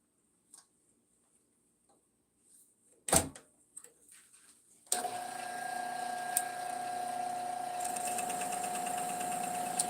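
A belt-driven lathe without electronic speed control starts up after a few scattered knocks and clicks, then runs at a steady mechanical hum with a faint whine and occasional ticks.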